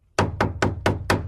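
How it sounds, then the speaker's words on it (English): Hammering sound effect with five sharp, evenly spaced metallic-edged strikes about a quarter second apart, each ringing briefly, close and loud with no talking. "hammering,"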